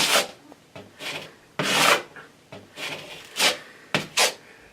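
A drywall blade drags drywall mud across a wall to patch a small hole, making about eight close, raspy scraping strokes in an irregular rhythm, each a short swish with brief pauses between.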